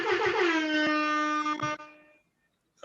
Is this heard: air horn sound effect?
yes